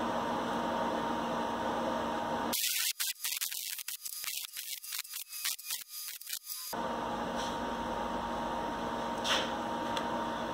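Welding a rear axle shock mount: a steady background hum breaks into about four seconds of crackling, sputtering arc bursts, close and fairly loud, then the hum returns.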